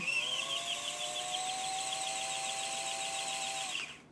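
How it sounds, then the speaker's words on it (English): Sewing machine winding a bobbin with the presser foot down, a steady whirring hum with a rising tonal whine that runs continuously for about four seconds, then cuts off at the end. "So then when I go and wind my bobbin,"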